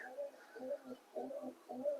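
Pigeons cooing inside a pigeon loft, a close run of soft rounded coos repeating in a steady rhythm, with no voices.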